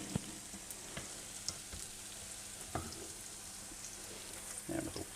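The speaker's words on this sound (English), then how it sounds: "What we're doing here, we're frying it" Bread frying in a pan for a Christmas brunch of Jerusalem eggs, a soft steady sizzle with faint scattered crackles and a few clinks of utensils, fairly quiet and without talk.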